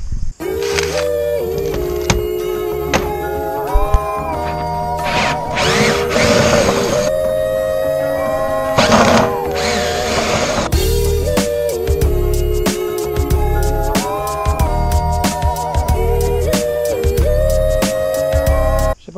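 A power tool with an 8 mm socket unscrews fasteners, its loud whirring motor rising and falling in pitch across several long runs with brief pauses.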